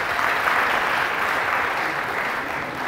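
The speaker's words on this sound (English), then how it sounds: "Clap for yourself." Dense, sustained applause from a student audience at a College of Engineering public lecture, a thick even wash of many hands clapping close by without letting up.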